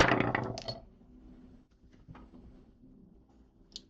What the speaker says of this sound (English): let me go ahead and roll the dice